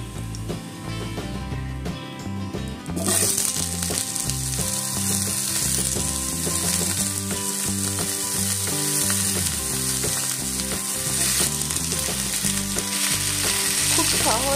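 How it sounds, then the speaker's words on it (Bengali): Pieces of green plantain and potato hit hot oil already seasoned with whole spices and fry in a pan, a loud crackling sizzle that jumps up sharply as they go in and keeps bubbling, with stirring clinks. "তেলটাও গরম হয়ে গেছে। তো এটার মধ্যে আমি কাঁচা কলা আর আলুটা এবার দিয়ে দেবো"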